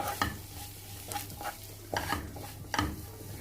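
Beef masala and onions are sautéed in a pan for a Kozhikode meat pathiri filling. A spatula scrapes and clanks against the pan in a few distinct strokes over a low, steady sizzle, heard close with no voices.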